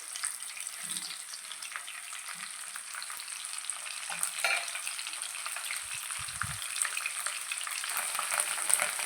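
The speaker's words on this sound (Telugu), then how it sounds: "ఎండ్రాయిలు బాగా వేపుకోవాలి." Dried prawns sizzle steadily in a hot pan, with a constant hiss that stays even and fairly loud throughout, broken by a few faint stirring scrapes and soft low knocks near the end.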